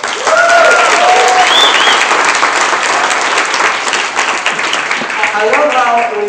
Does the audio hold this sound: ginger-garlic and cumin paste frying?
no